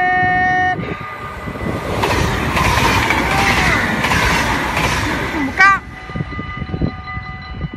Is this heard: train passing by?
yes